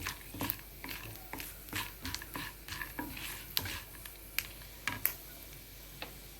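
A spoon stirring buttermilk rasam in a pot, with steady scraping and light tapping in an uneven rhythm over a soft bubbling sizzle, close and moderately quiet.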